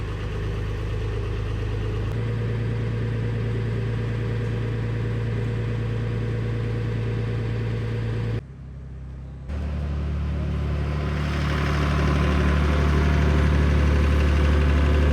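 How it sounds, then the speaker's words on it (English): A tractor engine at a homestead runs with a steady, loud low idle, cuts out briefly, then catches again and settles into a rougher, heavier rumble that builds slightly toward the end. "The lads are now trying to start the tractor."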